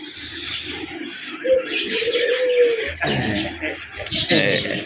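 Pigeons coo softly close by, low throaty calls rising and falling, with brief chirps and some background rustling.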